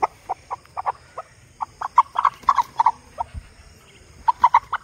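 Aseel hen being dusted with powder, clucking in short repeated bursts at close range with brief pauses, no talk.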